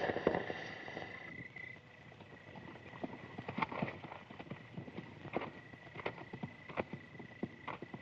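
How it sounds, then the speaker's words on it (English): Horse hooves clatter in a steady, quick rhythm at middle distance, a busy patter of several riders' horses approaching, with no talking. "It's a bunch of men on horses coming this way."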